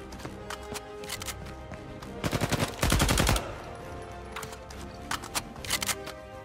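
Gunfire in the Uncharted 4 video game, with scattered single shots and then a dense automatic burst in the middle, followed by more sporadic shots over a continuous game soundtrack.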